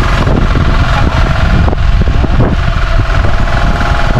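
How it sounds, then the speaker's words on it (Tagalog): A loud, dense roar of heavy rain and strong wind fills the air continuously, steady and close, with no pauses. "Grabe, sobrang lakas ng ulan at hangin."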